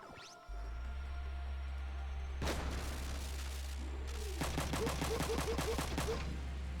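Gunfire in the video game Front Mission 3: one sharp blast, then a long rapid volley of evenly spaced shots, loud over a constant low droning background.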